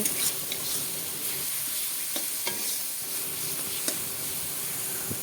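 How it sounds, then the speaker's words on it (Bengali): Green chili, cumin, ginger and chili powder sizzle and hiss in hot oil, a close, steady frying sound with light stirring taps throughout and no talk. "তেলের মধ্যে মশলা সব কিছু একসাথে দেওয়া হলো।"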